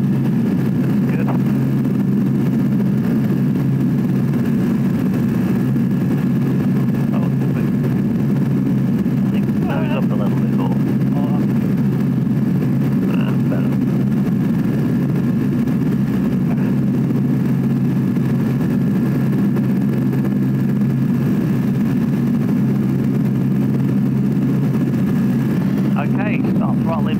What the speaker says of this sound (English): throttling back now